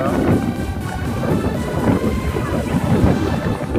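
Strong gusty coastal wind at Dagebüll, Germany, buffets the microphone with a low, rumbling roar throughout, loud and continuous.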